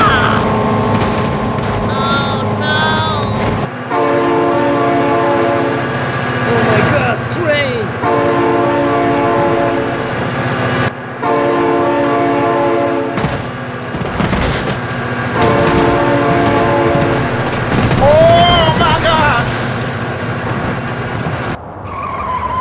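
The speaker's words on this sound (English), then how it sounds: "my god, train!" Game train rumbling past in BeamNG.Drive, with loud sustained engine drone, horn-like tonal blasts and metallic squeals over about twenty seconds, steady and close, alongside other vehicle noise.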